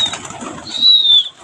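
Pigeons flap their wings after a bath, a soft fluttering burst close by with a brief high chirp-like tone over a light background rustle.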